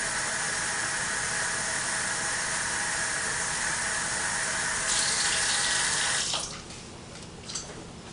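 A faucet pours a steady, loud stream of drinking water into a sample bottle, the hiss brightening as the bottle fills, then cutting off abruptly into quieter drips.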